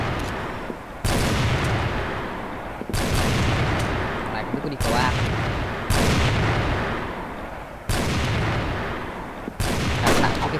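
Long bursts of heavy, booming gunfire from the shooter game CrossFire repeat in sustained volleys, separated by short pauses, loud and close.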